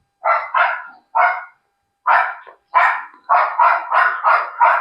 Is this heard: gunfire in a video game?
no